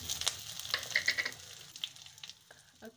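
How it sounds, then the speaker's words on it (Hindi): Cumin and yellow mustard seeds sizzle in hot oil, a close, bright hiss scattered with small popping crackles that gradually thins out. "ऑयल गरम हो चुका है। अब हम इसमें जीरा ऐड करेंगे, उसके बाद पीला वाला सरसों"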